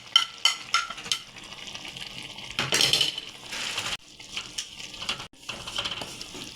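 Chopped tomatoes drop into a pan of cooking potatoes for aloo shimla mirch, with quiet sizzling, clinks of a spoon against the pan and soft stirring scrapes, no talking.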